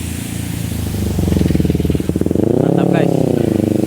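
Yamaha Mio GT 113cc scooter-style motorcycle engine running close by, a throbbing idle that rises into a brief rev and eases back, with a faint voice in the background.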